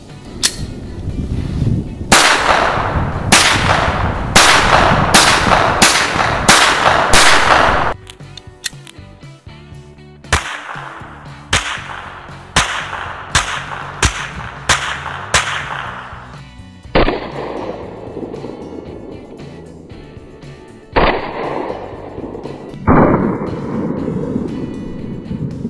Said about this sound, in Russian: звук выстрела данного изделия не особо громкий, отдача небольшая